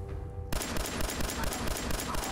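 Loud burst of rapid automatic gunfire in Fallout 4 kicks in abruptly after a brief quieter moment, then rattles on steadily and close for the remaining couple of seconds.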